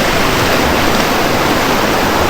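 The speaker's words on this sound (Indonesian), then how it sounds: "Wih, saya ngeri banget sih ini arusnya." Powerful roaring rush of a flooded river's strong current during the rainy season, loud, broadband and unbroken, with no voices over it.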